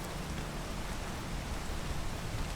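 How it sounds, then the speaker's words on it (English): Steady rain pours in the video game PEAK, a dense, even hiss of falling water that continues without a break and stays moderately quiet. "I really hope the rain goes away by the time I get over here"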